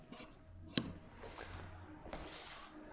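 Scissors cut lining fabric down a side seam, making a few quiet, scattered snips and crisp rustles close by, with a sharper cut near the middle.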